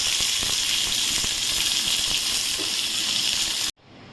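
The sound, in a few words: mustard seed and curry leaf tempering sizzling poured over dish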